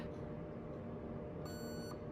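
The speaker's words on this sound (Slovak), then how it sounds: "Zapojte batériu do zbrane, budete počuť dvojité pípnutie a jedno dlhšie pípnutie." An electronic beep sounds once from a Delta Armory Eagle airsoft gun as its battery is connected. The tone is steady, lasts about half a second and is quiet, heard against a constant low hum.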